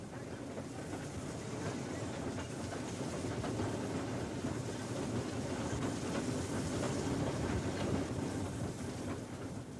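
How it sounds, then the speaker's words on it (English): A narrow-gauge steam train in Wales rumbles steadily along the track with a continuous low roar and some wind buffeting, loud and close throughout. "after this first viaduct, the train must start to slow down quite a bit"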